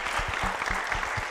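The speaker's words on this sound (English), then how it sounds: "Give this young man a clap." An audience claps for a 16-year-old young man at a summit event, a fairly soft, even patter of applause lasting a moment, with no voices over it.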